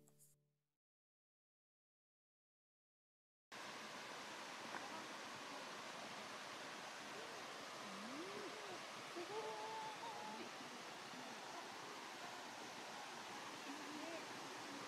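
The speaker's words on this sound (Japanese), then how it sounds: "階段状に流れ落ちていく滝が美しく" Oshidori-kakushi waterfall cascading down in steps, a steady broadband rush of water that begins after a few seconds of silence and continues evenly, faint and without voices.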